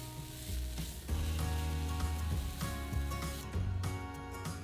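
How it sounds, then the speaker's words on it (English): Diced onion frying in oil, a soft continuous sizzle with light crackling, close and fairly quiet, no voices. "Add a large diced onion and cook for 3 to 4 minutes until the onion is softened."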